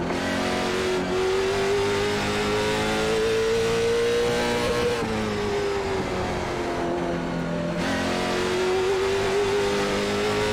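Race car engine in the iRacing ZMax Cars Tour at Langley Speedway, a loud, continuous near drone that holds steady, dips as the car slows for a corner, then climbs again as it accelerates, with no talking.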